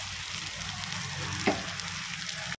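Two broken eggs fry in hot oil, a steady, dense sizzle that continues evenly with one faint clink partway through before it cuts off abruptly.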